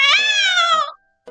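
A cat gives one clear, drawn-out meow, loud and close, then a short second meow begins after a brief silence.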